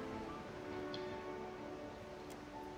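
Rain pours steadily onto a sailing ship at sea during a storm in the Pillars of Eternity II: Deadfire game, a constant even hiss with a few faint ticks, alone with no voices.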